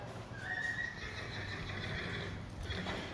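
A horse in a barn lets out one clear, drawn-out whinny at moderate distance, fading over a few seconds against steady stable background noise.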